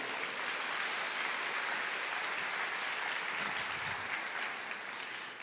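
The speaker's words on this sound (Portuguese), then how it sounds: "dá uma salva de palmas aí" A church congregation claps in sustained, even applause during a sermon, dense and continuous with no voices over it, tapering slightly at the end.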